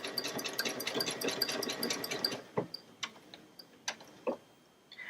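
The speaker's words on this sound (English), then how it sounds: "press the start button. And it'll continue sewing until it gets to that corner position" A Baby Lock Solaris 2 sewing machine stitching a Christmas wall hanging, a steady rapid mechanical ticking for a couple of seconds, then stopping and leaving a few isolated clicks and taps.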